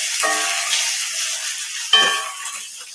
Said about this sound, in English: come on, veggies. They're cooking. Give it a little stir.